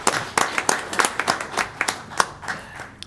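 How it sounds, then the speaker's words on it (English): Scattered applause from a small audience at a city council meeting, individual hand claps distinct and close, with a few people clapping unevenly for about three seconds. "Please give him a round of"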